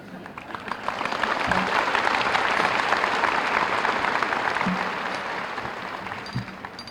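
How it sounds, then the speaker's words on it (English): Warm applause swells from a large audience at a high school commencement, building to a sustained, dense roar and slowly fading, with a few louder individual claps and faint crowd noise. "I'd like to have a little applause for all of you that had to survive a full year with me."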